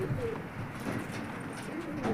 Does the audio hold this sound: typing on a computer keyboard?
no